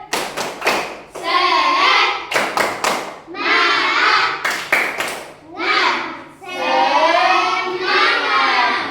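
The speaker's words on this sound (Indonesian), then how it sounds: "Ayo, tepuk semangat." Classroom of Indonesian pupils performing tepuk semangat, bursts of sharp rhythmic group claps in quick patterns alternating with children's chanted voices, close and loud.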